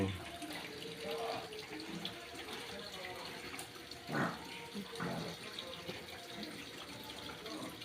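A faulty washing machine under repair drains its water in a steady rushing, splashing flow, with a few brief louder gurgles and faint voices in the background.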